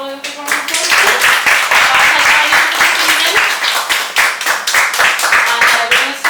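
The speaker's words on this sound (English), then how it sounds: "Can we give Tolu a big round of applause?" A poetry night audience in Newcastle claps loudly and continuously, a dense burst of applause that swells and holds for several seconds, with a voice briefly audible at the start.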